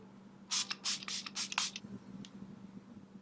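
Makeup setting spray misted onto a face in a quick burst of about five sharp pump sprays, close and loud, followed by a faint extra spritz over quiet room tone.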